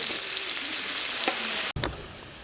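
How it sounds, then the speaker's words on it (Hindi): Onions frying in a pan for Kabuli pulao, a dense close sizzle hissing continuously with a brief stir and a momentary cut near the end, no voices. "प्याज को सुनहरा होने तक भून लेंगे।"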